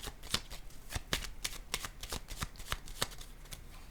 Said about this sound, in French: Je vais déposer une carte sur la fausse personne.